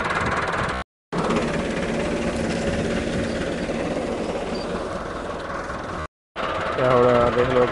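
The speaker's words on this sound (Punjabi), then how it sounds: "ਹੁਣ ਦੇਖ ਲਓ, ਇਸ ਟਾਈਮ ਇਹ ਕਮਾਦ ਜਿਹੜਾ ਨਾ ਇਹ ਵਾਹੁਣਾ ਸ਼ੁਰੂ ਕਰ ਦਿੱਤਾ ਵਾ" Steady diesel chugging from a Massey Ferguson MF 385 tractor pulling a 9-tine ridger through a sugarcane field, broken by two brief silent gaps, with a voice speaking over the engine near the end.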